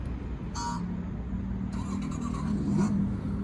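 A fake Bluetooth exhaust on a Fly E-bike RZ electric motorcycle plays a synthetic engine note, a steady mid-level rumble with two brief revving surges, close by.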